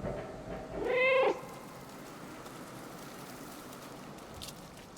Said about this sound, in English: I just got an achievement for meowing 100 times.